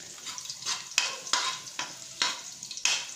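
Garlic fries in a pan with a soft sizzle broken by repeated scraping stirs, each stroke a short rush of crackle roughly every half second, close and moderately quiet.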